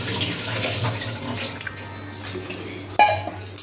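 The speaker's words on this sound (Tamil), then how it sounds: "இப்போ இந்த மோர் இதில் சேர்த்துருவோமே" Buttermilk being poured into a pot of okra curry, a continuous liquid splashing and gurgling close up, with faint clinks of a vessel and a sharp knock near the end.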